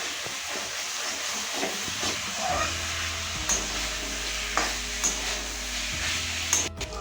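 A spoon stirs mocha ghonto with prawns in a pan, giving soft scraping and a steady sizzling hiss with a low rumble beneath, and a few sharper clinks near the end.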